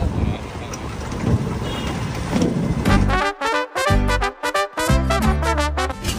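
Buses and road traffic in Vrindavan, India, heard from a front seat as a steady, close engine-and-road rumble, then a loud burst of tonal, choppy sound with voices taking over for the last few seconds.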